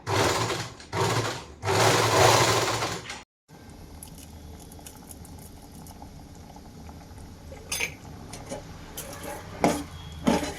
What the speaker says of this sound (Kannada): ಮೋಟ್ರ್ ಫಿಕ್ಸ್ ಮಾಡಿಸಿದ್ಮೇಲೆ ಇದನ್ನು ಕಾಲಲ್ಲಿ ತುಳಿಯೋ ಪೆಡಲು ಆ್ಯಕ್ಚುಲಿ ನಾನು ಕೈ ಯೂಸ್ ಮಾಡಿಬಿಟ್ಟು ಹೊಲಿಗೆ ಹಾಕ್ತೀನಿ